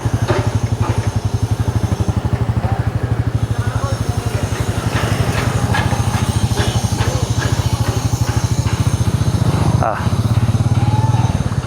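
A motorcycle ridden on a long road trip from Tangail to Dimla, its engine droning steadily and loudly the whole way with a brief dip near the end, while a rider talks over it.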